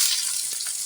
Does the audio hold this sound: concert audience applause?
no